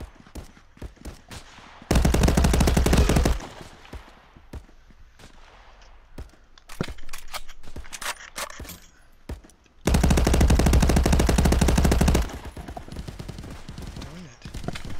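Dense automatic gunfire in the VR shooter Contractors, set on a downtown map, coming in two long sustained bursts with scattered single shots and clatter between them, loud and close.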